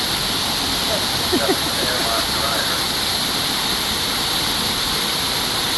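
Water rushes through an Erie Canal lock chamber at Lockport, a loud steady roar of flow, with a faint voice briefly audible beneath it.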